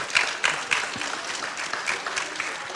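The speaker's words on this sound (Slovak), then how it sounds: "poprosíme Kristínke ešte potlesk" Audience applause for Kristína, a singer, at the Roma pilgrimage in Gaboltov, Slovakia: steady, moderately loud clapping from a crowd with a few sharper claps standing out, filling the whole moment with no talking.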